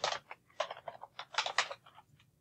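Quick, irregular keystrokes patter on a computer keyboard nearby, a run of light clicks with no one talking.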